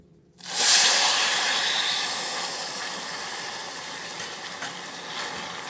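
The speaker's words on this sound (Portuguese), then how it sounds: "agora está na hora de acrescentar a água fervendo" A sudden loud hiss and sizzle erupts as boiling water is poured into hot melted-sugar caramel, then settles into a steady bubbling hiss that slowly fades.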